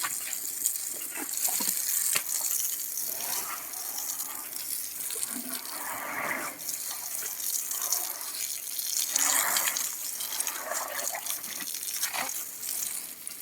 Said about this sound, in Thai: ดูน้องทองเงินอาบน้ำไปด้วยครับ